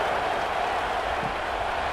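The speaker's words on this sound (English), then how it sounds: "this crowd is buzzing after that last score" Stadium crowd at an Oregon vs Washington college football game, a steady broadband roar of cheering and murmur filling the space continuously, dense and unbroken with no single voice standing out.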